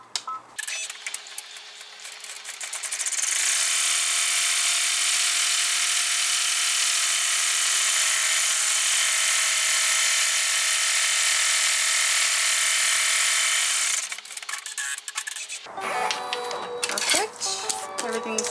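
An embroidery machine stitches out an in-the-hoop window wallet, a loud, steady buzzing rattle running unbroken for about twelve seconds, with quieter mechanical clicks and handling noises before and after.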